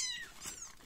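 A young kitten gives a short, thin, high meow, faint and close, with a second quieter squeak after it.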